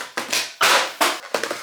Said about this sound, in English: That was the sound of me dropping the arugula